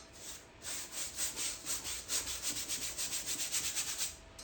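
A stiff bristle brush scrubs paint across a canvas in a steady back-and-forth rhythm, close and moderately loud, with repeated rasping strokes and no talking.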